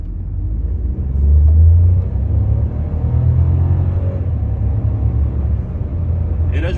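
Volkswagen T-Cross accelerating on a road during a test drive, a loud steady engine rumble and tyre roar heard from inside the cabin, swelling early then holding level; no talking.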